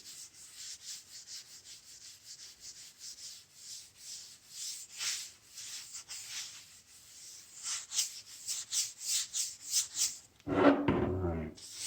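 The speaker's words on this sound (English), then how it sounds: "But I always go light on the sanding." Light hand sanding of stained wood gives soft, rhythmic scratchy strokes, close and quiet, repeating steadily before a brief louder clatter at the end.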